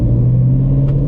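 A Shelby GT350 Mustang V8 fitted with long tube headers idles with a deep, steady, loud rumble, the engine note holding constant throughout with a slight rise near the end and no talking.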